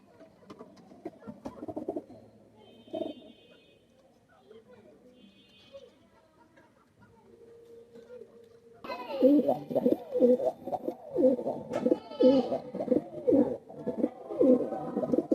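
Kaldom pigeons of the Oman Teddy type coo in soft, low, repeated bursts, fairly close and moderately loud, with a few higher chirps, while people talk over them.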